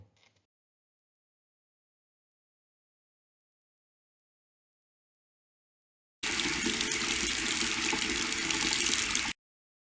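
Water gushes steadily from a kitchen tap for about three seconds to wash fruit, loud and close, after a long silence, then stops abruptly.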